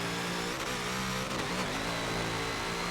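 A car in Forza 7 is pushed hard through a turn, its engine revving and droning loudly and steadily with no talk over it.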